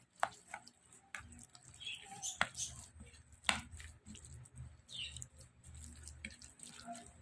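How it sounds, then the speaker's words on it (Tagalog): Water is added to ground meat for tortang giniling in a kitchen, bringing faint splashes and trickles mixed with soft clatters and taps of utensils, all quiet and close with scattered sharp clicks. "Lagyan natin ng kaunting tubig."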